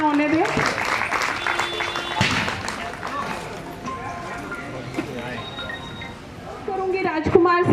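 Applause from the audience at a retirement ceremony for a teacher, steady clapping running throughout with a voice speaking over it, swelling again near the end.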